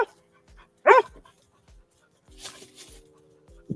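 A small dog barks in a few sharp, separate yaps, close and fairly loud, with quiet gaps between them.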